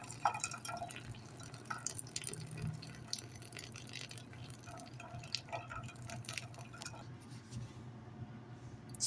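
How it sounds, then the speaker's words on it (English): Brewed coffee trickles out the bottom of a pour-over brewer as water is poured through the top, a close, continuous run of drips and small splashes into a vessel, with no talking. "it just pours out the bottom when I pour it through the top."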